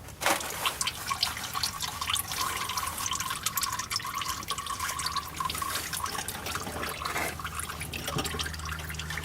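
Old oil drains from a diesel truck's oil filter into a pan below, a continuous close trickle and splatter with faint metallic clinks and no talk.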